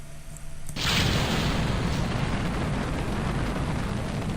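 A rocket engine in Kerbal Space Program ignites with a sudden loud roar after a quieter lead-in, then holds a steady, dense, rumbling blast with no talk.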